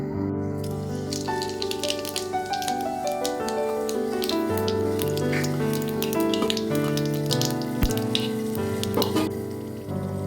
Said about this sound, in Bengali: ওই তেলের মধ্যেই গোটা জিরে আর একটা শুকনো লঙ্কা ফোড়ন দিয়ে দেবো